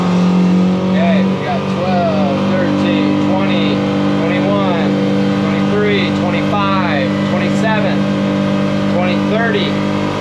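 A Suzuki 150 outboard motor pushes a 2008 Hewescraft 220 Ocean Pro boat from gear engagement through hard acceleration, a loud steady drone with rising whine, while someone speaks over it throughout.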